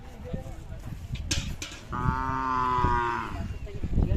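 Khillar cattle at a cattle fair in Athani, Belagavi district, give one long, loud moo with a rising, harmonic-rich tone, lasting about a second and a half, over background crowd noise and brief voices.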